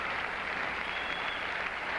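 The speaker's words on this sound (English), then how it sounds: "And the crowd shows its approval of Ilie Nastase" Applause from a tennis crowd at a 1978 Forest Hill semifinal between Ilie Nastase and John McEnroe, a dense, continuous clapping wash at steady loudness.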